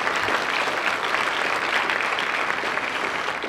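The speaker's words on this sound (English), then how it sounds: "give them a raucous round of applause" A roomful of people at a symposium claps steadily and enthusiastically, a dense, continuous wash of applause at close range.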